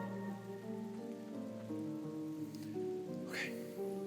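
Steady rain falls in the video game Ender Lilies, a soft, even patter heard beneath sustained, gentle musical tones, with one brief brighter swell near the end.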